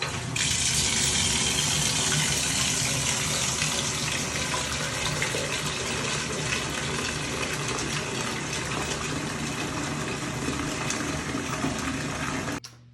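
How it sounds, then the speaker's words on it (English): Cold tap water gushes steadily into a pot, a loud, continuous rushing stream that runs unbroken for about twelve seconds and then stops abruptly. "I'm gonna fill it up with cold water."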